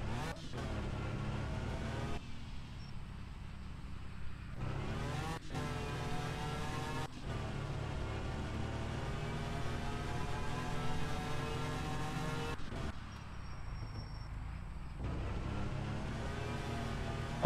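A used car is driven in Car For Sale Simulator 2023, its engine droning steadily for the whole stretch with rising and falling revs and gear shifts, loud and continuous without talk.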